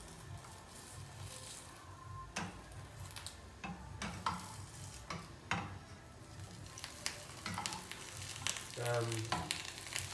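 Pancake frying in a pan and being flipped slowly, a continuous soft sizzle with scattered scrapes and taps of a spatula against the pan.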